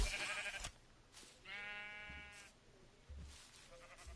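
Minecraft sheep bleating in the video game, a couple of short wavering baa calls with quiet gaps between, close and clear with no talk over them.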